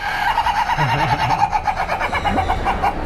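A loud-crowing Thai rooster at a poultry shop in Fish Village market, Ban Pong, Ratchaburi, gives a close, drawn-out wavering crow over the clucking of other fowl and faint market noise.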